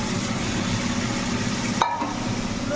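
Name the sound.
prawns sizzling while frying with taro stolons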